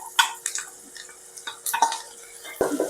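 Onions cooking in a pan with ginger-garlic paste and curry leaves for paneer butter masala, heard as short, scattered scrapes and clinks of stirring with only a faint sizzle, close up and without talk.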